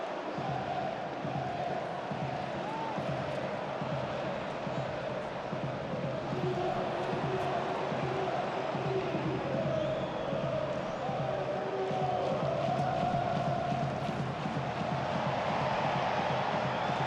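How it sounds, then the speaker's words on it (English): A football stadium crowd at Riazor cheers and roars in a steady, broad wash of massed voices, swelling slightly toward the end, with a commentator talking over it. "now the people is cheering at Riazor"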